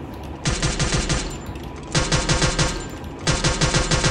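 Rapid automatic gunfire in Garena Free Fire, three loud sustained bursts of fast regular shots separated by brief pauses, close and dominant with no talking.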